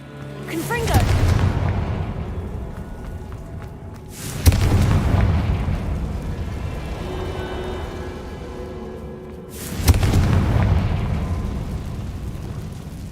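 Confringo fire spell explosions in the Hogwarts Legacy video game, three deep booming blasts a few seconds apart, each with a sharp onset and a long rumbling tail.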